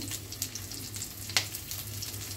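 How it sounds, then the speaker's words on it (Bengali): Shrimp frying lightly in a small amount of oil in a pan for a bottle gourd curry, giving a steady soft sizzle with a few small pops and crackles, close and moderately quiet, with no talking. "হালকা করে একটু ভেজে নিব, অল্প তেল দিতে হবে।"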